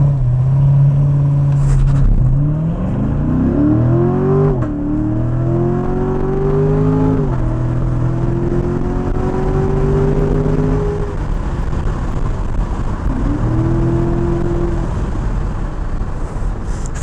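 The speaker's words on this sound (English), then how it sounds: "we're going to do launch control here. The Grand Sport." Corvette Grand Sport doing a launch-control start, engine revving loud and close then pulling hard through several gear changes, pitch climbing and dropping with each shift, ending on a brief lift and another surge.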